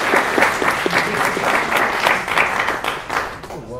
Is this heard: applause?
yes